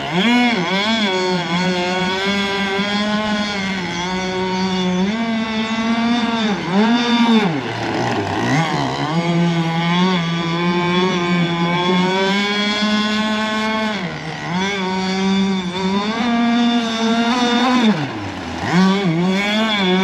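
An RC gas boat powered by a Zenoah 26cc two-stroke engine buzzes loudly and continuously close by. Its pitch swings up and down as the throttle is fed in and eased off, with several sharp dips before it climbs again.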